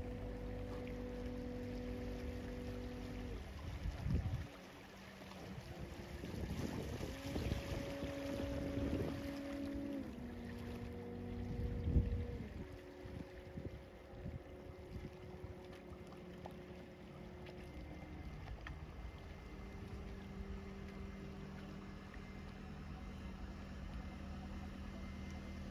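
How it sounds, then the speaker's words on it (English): A Quartet class hire boat motors out of dock on the Norfolk Broads, its low engine drone shifting pitch as it manoeuvres and throttles, steady and fairly close, with no talking. "pulling out of dock here is also a quartet class boat that was going out at the same time as us"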